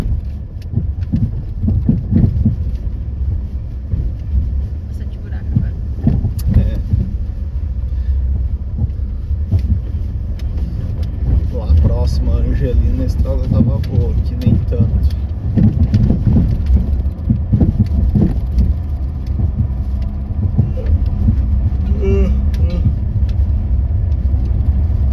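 A car is driving along at a steady pace, its deep engine and road rumble filling the interior, loud and unbroken, with occasional faint rattles on top.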